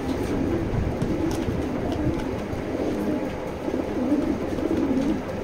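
A pair of racing pigeons coo in soft, repeated rolling phrases against a steady low rumble of background noise.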